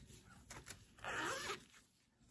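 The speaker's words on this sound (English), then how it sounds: "It has a little pink zipper on it." A short pull of a small zipper on a pencil case, a quick bright rasp lasting about half a second, preceded by light handling taps, close and clear.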